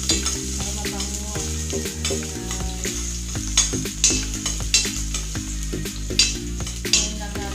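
Ginger and onion sauté in a little oil, crackling and sizzling steadily. A utensil stirs the pan, scraping and clinking in a repeating rhythm against a steady low hum.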